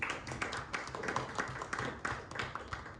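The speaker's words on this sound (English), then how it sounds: "Let's give a big round of applause." Audience applause for a guest on a discussion panel, dense steady clapping from a crowd at moderate level with a few sharper individual claps standing out, running throughout without talk.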